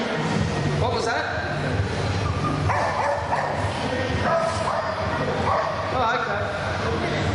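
A nervous sheepdog at a sheep shearing show whimpers and gives short high yips in repeated bursts, close by, mixed with people talking nearby.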